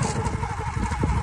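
A motorcycle engine drones steadily as it is ridden, a close, continuous low rumble with slight surging across the short stretch and no clear talk over it.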